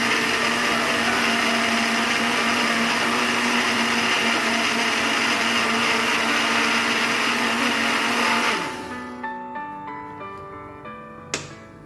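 A loud blender whirs steadily for several seconds blending cucumber with water, then winds down and stops, leaving a few faint clicks and a final tap.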